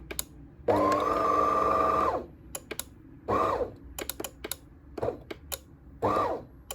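A DeLonghi Magnifica S coffee machine making an americano, giving a loud mechanical whir lasting over a second, then a string of clicks and short whirring bursts at close range, with no talking.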